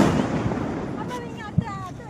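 Firecrackers set off at a family Diwali celebration pop in a couple of sharp bursts, mid-distance, while people talk nearby.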